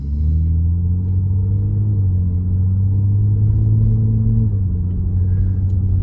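Cabin interior of a Ford Explorer with an EcoBoost engine and a deleted muffler, a steady deep droning rumble whose pitch drifts gently up and down, close and even, with no talking.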